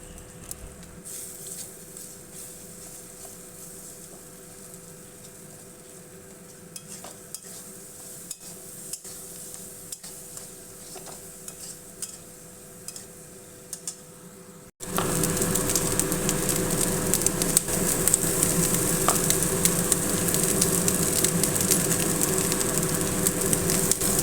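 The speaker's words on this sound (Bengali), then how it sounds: "আমাদের সবজিগুলো ভাজা হয়ে গেছে আর একটা ডিম ভেঙে দিয়ে দিলাম" Vegetables and a cracked egg fry in a pan for fried rice, giving a steady sizzle with stirring and scraping that jumps much louder halfway through and keeps crackling without talk.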